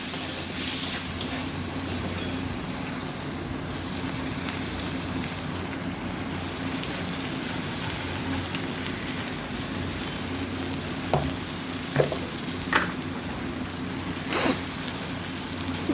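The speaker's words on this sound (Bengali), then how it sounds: "ভেজে নিতে হবে এগুলো, টমেটোগুলো যেন একটু নরম হয়ে যায়।" Tomatoes frying in a pan with salt and turmeric, an even close sizzle and crackle running throughout, with a few sharp spatula taps near the end and no talking.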